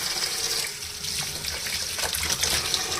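Water pouring steadily from a tap into a bowl, a continuous close splashing rush.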